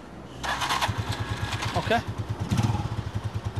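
A motorcycle engine idles with a rhythmic low putter while a person speaks briefly over it; the running engine stays steady throughout with no clear cut-off.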